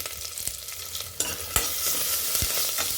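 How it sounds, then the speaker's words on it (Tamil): Small onions frying in a pan with dried red chillies and curry leaves, a soft continuous sizzle with a few scraping stirs, close and fairly quiet, no voices. "வெங்காயம் நல்லா வதங்கட்டுங்க."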